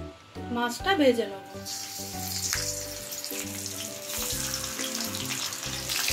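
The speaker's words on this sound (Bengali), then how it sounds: "এবার মাছটা ভেজে নেব" Bata fish frying in hot oil for a Bengali bata macher jhal, a steady close sizzle running throughout with a burst of spitting near the start while someone talks over it.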